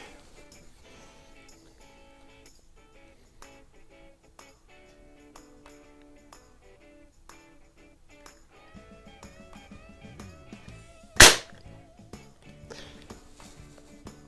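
A Beeman AR2078 air rifle firing a wadcutter pellet gives a single sharp, loud crack late in an otherwise quiet stretch with faint handling taps and clicks.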